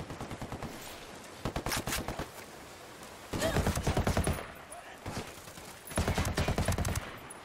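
Bursts of automatic gunfire in Ghost Recon Wildlands during an ambush, several rapid volleys of loud close shots separated by short pauses.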